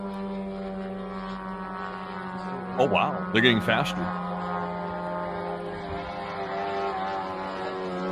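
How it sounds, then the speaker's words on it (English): Ukrainian drones flying overhead at night in Kursk Oblast, a continuous buzzing engine drone with layered tones, steady throughout while someone briefly speaks in the middle. "we also were able to hear in the Kursk Oblast that some Ukrainian drones were flying on in tonight and making a scene"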